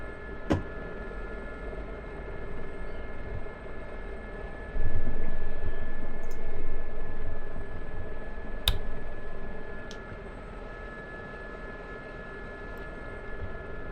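A Gazelle helicopter in the DCS flight simulator drones with a steady rotor and turbine hum, loud and continuous, with a few sharp clicks standing out.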